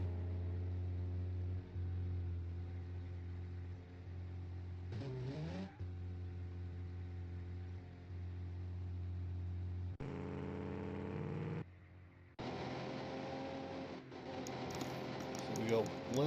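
Racing car engines from BeamNG.drive AI racing with 1980-era McLaren cars, a steady mid-pitched engine drone broken by several louder revving passes and gear changes, under commentary.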